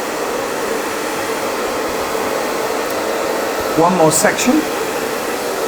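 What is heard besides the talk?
hair dryer blow drying hair with a brush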